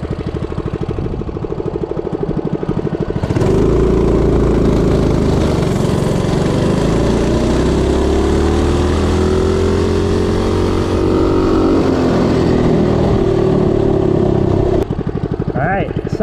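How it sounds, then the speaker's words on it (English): A stock Predator 196cc engine on a Coleman CT200U-EX minibike roars up from idle and holds a steady, loud full-throttle drone for about twelve seconds, then drops back off, close to the listener. "stock Predator on the Coleman bike."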